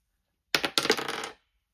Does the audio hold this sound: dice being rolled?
yes